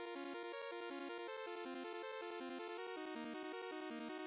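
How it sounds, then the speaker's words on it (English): A buzzy saw-wave synthesizer plays a quick run of short notes, each one decaying and cutting off fast, in a steady, bouncing rhythm. "we have one saw wave."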